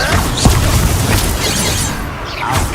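Blasting spell explosion in the Hogwarts Legacy video game, a loud booming burst that fills the whole moment with dense rumbling crash and debris noise, alone without talk.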